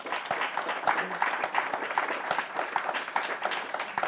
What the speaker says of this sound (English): How about a round of applause for our great panelists?